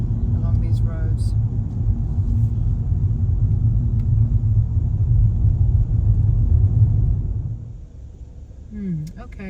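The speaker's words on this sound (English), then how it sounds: "we're still driving up the windy road" A car climbs a narrow, winding hill road in rural Portugal, its engine and tyres making a loud, steady rumble from inside the cabin that eases near the end, where a voice briefly speaks.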